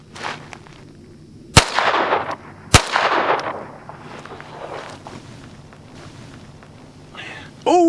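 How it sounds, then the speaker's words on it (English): Two sharp, loud gunshots about a second apart from a Walther PPQ pistol fitted with a new barrel, each followed by a brief ringing decay, then quieter background noise. "let's fire these 2 rounds and see if I can find at least one of them"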